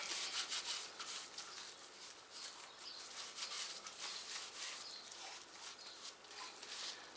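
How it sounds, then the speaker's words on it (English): A wax-soaked cloth rubbed back and forth over a leather-and-Kydex hybrid knife sheath, making a steady soft scuffing hiss that runs continuously and close up, with no talking. "There's enough wax inside the cloth itself, and just give it another rub over"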